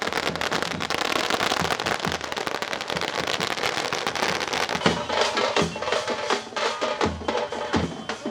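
Firecrackers burst in a dense, continuous rapid string of loud cracks and pops at an outdoor welcome celebration for farmers, unbroken for several seconds.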